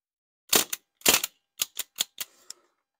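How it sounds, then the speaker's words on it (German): A CO2 MP40 airsoft gun fires seven or eight sharp, close shots in uneven bursts, each a crisp crack with a short tail, against otherwise silent background. "Ich bin in sicherer Entfernung hier und werde jetzt einfach schießen auf den Sekretär."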